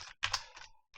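Keystrokes on a computer keyboard while writing code in Unity: a handful of quick clicks in about a second, close and crisp, with a short pause before a final tap.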